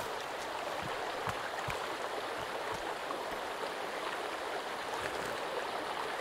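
River water flows steadily in the Sons of the Forest survival game, a constant soft rushing wash with a few faint low knocks and no voices.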